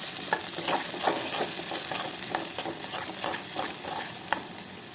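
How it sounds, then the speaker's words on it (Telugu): Onions, green chillies, curry leaves and seasoning seeds fry in hot oil for a potato curry, giving a loud, steady sizzle with scattered crackles and pops, stirred now and then, with no talking. "2 నిమిషాలు ఫ్రై అవ్వనిద్దాము."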